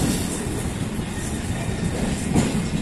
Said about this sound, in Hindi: गोरखपुर पनवेल एक्सप्रेस ये अपने आजमगढ़ रेलवे स्टेशन प्लेटफॉर्म संख्या 1 पर आ चुकी है